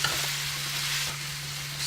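Pork belly for a Chinese braised stew is stirred in sauce in a pan. A soft, continuous bubbling sizzle sits under faint utensil movement, fairly quiet and steady.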